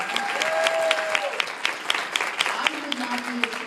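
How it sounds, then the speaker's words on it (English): Audience applause at a seminar, a dense patter of clapping from a crowd that runs throughout, with a person talking over it at moderate level. "I want to just applaud all the guys for coming and being supportive of your ladies."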